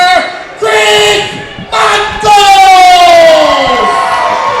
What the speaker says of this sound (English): Listen to this crowd cheering Chris Michaels on